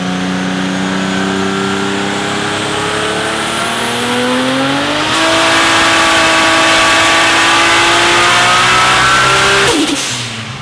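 A high-horsepower turbocharged car making about 900 horsepower on 32 psi of boost roars through a full-power dyno run, its loud engine note climbing steadily in pitch before cutting off sharply near the end.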